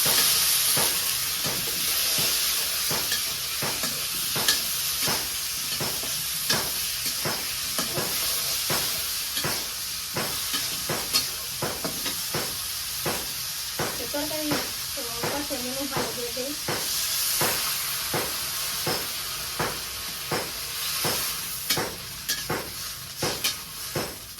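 Curry being sautéed in a pan sizzles and hisses continuously, with a steady run of sharp scraping stirs and occasional clinks of a utensil against the pan; a faint voice speaks briefly partway through.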